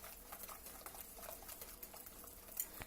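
Mashed bananas being stirred into a wet egg mixture for chocolate chip banana bread, a soft, steady squelching and sloshing close by with light scraping, no talk.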